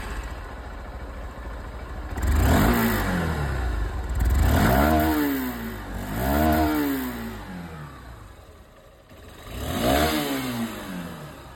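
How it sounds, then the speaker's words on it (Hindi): A 2023 Honda SP 160 motorcycle engine idles close by and is revved four times in sharp bursts, each climbing and falling back to a steady idle. "तो दोस्तों आवाज आप लोगों ने दोनों ही बाइक की सुन ली है।"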